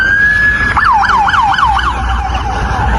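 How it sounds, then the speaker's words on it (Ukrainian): An ambulance siren on a snowy street wails alone and loud, first a steady tone and then a rapid rising-and-falling yelp that fades slightly as the vehicle moves away. "Це швидка, вона так має їхати."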